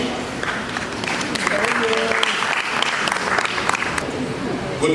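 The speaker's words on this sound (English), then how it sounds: "Let's give you a round of applause" A conference audience claps for a Deputy Minister in sustained, dense applause that holds steady for several seconds, with faint voices mixed in.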